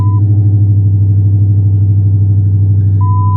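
A retuned car engine idles steadily after a cold start, producing a loud, close, continuous low rumble with no speech over it.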